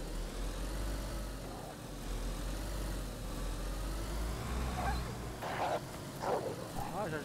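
A car engine idles steadily in a GTA roleplay game, a low continuous hum that runs under the whole stretch, with a few brief brighter noises near the end.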